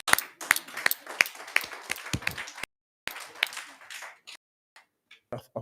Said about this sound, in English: I wish to call upon all of us to clap for God in the loudest.